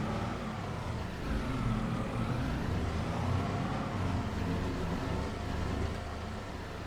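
A farm truck's engine runs in Farming Simulator 22, a steady, dense low rumble that holds at a constant level throughout with no voices on top.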